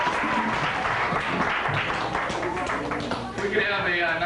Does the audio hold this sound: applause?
yes